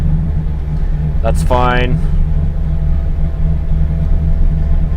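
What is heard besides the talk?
car engine idling in neutral at about 750 RPM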